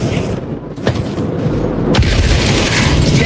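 EMP detonation in an online shooter game: a sharp burst arrives around the two-second mark, followed by a sustained loud rumble, over a noisy game backdrop with gunfire.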